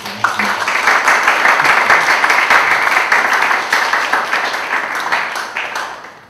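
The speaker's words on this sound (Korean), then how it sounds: "하나님께 다시 한번 영광의 박수 올려드립니다." A church congregation at a young adults' worship service applauds loudly and steadily for several seconds, the clapping thinning out and fading at the end.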